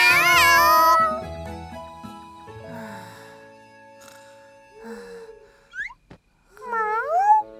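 A cartoon cat in a children's safety cartoon gives several short meows with rising and bending pitch, clear and close, after a brief musical passage.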